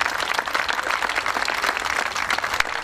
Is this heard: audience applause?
yes